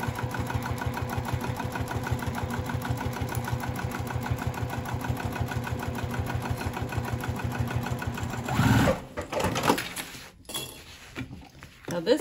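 A sewing machine top-stitches a cork crossbody bag panel in a steady, rapid mechanical chatter for several seconds, then stops; handling clatter follows.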